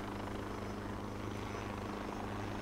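Helicopter in the video game Joint Operations: Typhoon Rising, a steady low rotor thrum and engine drone held at constant loudness throughout, quiet and without talk.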